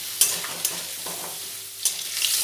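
Potatoes frying in a pan with a steady sizzle, broken by a few sharp stirring scrapes and clinks, close and alone with no talking.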